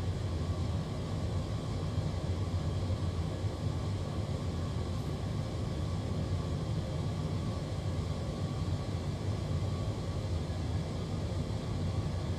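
A Boeing 787-9 taking off from Auckland in Microsoft Flight Simulator gives a steady, unbroken engine roar with a low rumble, holding even throughout.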